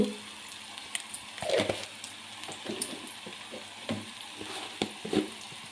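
Tomato egg fried rice sizzling gently in a pan over low flame, with a soft steady fry under intermittent scraping and clattering stirring strokes, fairly quiet and close.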